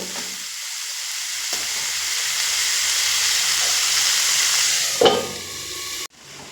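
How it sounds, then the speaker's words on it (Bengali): Vegetable stalks frying with spices in a pan make a loud, steady sizzle with bright hiss that holds for about five seconds, then a sharp clatter, and the sound cuts off suddenly near the end. "সাত থেকে আট মিনিট আমি ডাটাগুলো মশলার সঙ্গে কষিয়ে নিয়েছি"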